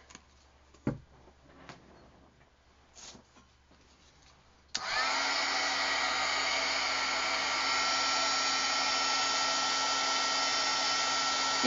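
After a few quiet taps and handling noises, a heat tool switches on and blows a steady, loud whirring hum while drying gesso-coated art pieces, continuing without a break to the end.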